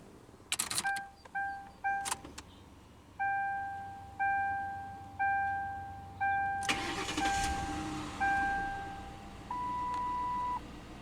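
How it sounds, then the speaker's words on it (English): A 2005 Mercury Grand Marquis LS Ultimate starting up: a run of steady two-tone warning chimes, then a loud burst as the engine cranks and catches, and a settled idle under more chimes and a final long tone. "let's go ahead and start the engine."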